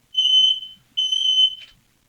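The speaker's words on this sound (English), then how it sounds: "Sounds like a fire alarm." Two loud, shrill fire alarm tones, each sounding for about half a second, piercing and steady, then a short rustle and silence.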